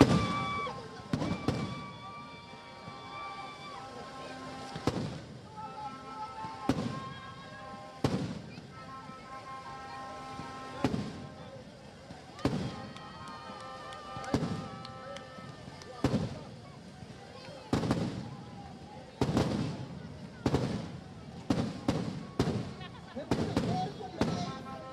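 Fireworks set off to welcome a new president at a roadshow: repeated sharp bangs and crackling bursts in irregular clusters, some near and loud, with crowd noise and voices between the blasts.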